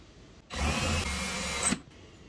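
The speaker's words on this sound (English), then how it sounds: "first step is drilling out the old rivet" A power drill whines steadily for about a second, boring out an old rivet on the front storage lid latch of a Polaris Sportsman 450-570 ATV, starting and stopping abruptly, alone and close.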